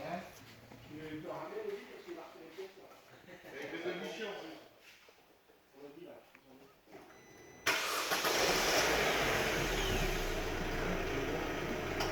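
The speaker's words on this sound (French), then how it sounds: "démarrer le moteur de la voiture et de le mettre à 1200 tours" A car engine cranks and starts, then settles into a steady run held at about 1200 rpm, loud and close, after a stretch of talking while a Duraclim air-conditioning service is set up.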